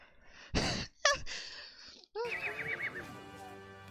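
A horse whinnies clearly in a quiet setting, a short breathy snort first, then a long rising-and-falling neigh with a wavering pitch, fairly close and loud with no talk over it.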